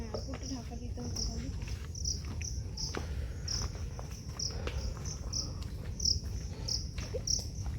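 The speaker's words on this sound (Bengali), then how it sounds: "প্রচুর ঝিঝি পোকা ডাকছে এখানে" Crickets chirping in a botanical garden in Howrah during the monsoon, a steady high pulsing trill in repeated bursts, with soft outdoor background noise and a person talking faintly.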